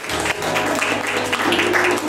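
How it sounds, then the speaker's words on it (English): Church congregation clapping hands in praise during a service, a continuous dense clatter of many hands, loud and near, with a faint sustained musical tone underneath. "Give the Lord a hand clap"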